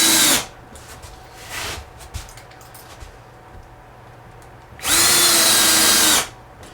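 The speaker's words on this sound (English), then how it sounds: "I'm going to just put a bunch more screws in this thing." A power drill drives screws into a wooden sign in two loud, close bursts, a short whirring run at the start and a longer one near the end, with quiet handling noises in between.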